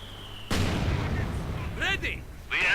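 Mortar and artillery fire in the World War II strategy game Company of Heroes 2, a loud sudden blast that rolls into a sustained rumbling roar, with game voice lines breaking through over it.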